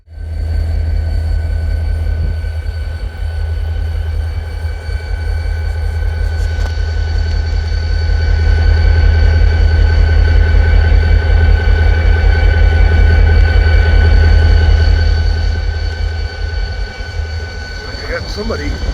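Wheeling & Lake Erie locomotive #6354 idles in Medina Yard on a cold, windy, snowy night, giving a steady, loud, low diesel drone with a constant hum that swells slightly midway and eases toward the end.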